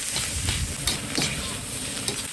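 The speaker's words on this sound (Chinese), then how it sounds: "鸭蛋下锅煎" Duck eggs frying in oil in a pan, a continuous sizzle with crackling pops and scraping stirs, close and fairly loud.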